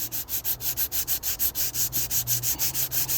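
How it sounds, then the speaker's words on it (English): Hand sanding with coarse 40-grit sandpaper, a close, rhythmic back-and-forth rasp repeating about five strokes per second, steady and alone. "This is, I think, 40 sandpaper."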